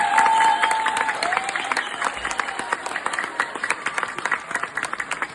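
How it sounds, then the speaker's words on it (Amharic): Warm applause from an audience at a celebration of the Adwa victory anniversary: steady dense clapping that starts loud and gradually tapers off, with a little crowd noise. "እንደገና ሞቅ ያለ ጭብጨባ ለራስ"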